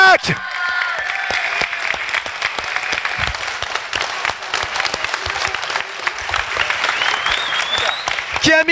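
A standing ovation at the Stunfest gaming event after a Dodonpachi Saidaioujou run: loud, sustained applause with sharp individual claps and cheering, while voices talk and shout over it.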